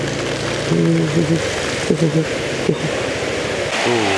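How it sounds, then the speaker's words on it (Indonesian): Heavy rain pours down in a steady dense hiss during a motorcycle tour stop, with people talking intermittently over the downpour. "Hujannya lebat banget."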